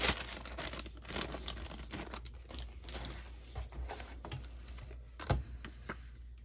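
Plastic and paper packaging of a Philips Rush mp3 player crinkles and rustles in irregular bursts as a hand digs through the box, close up, with a sharper crackle near the end.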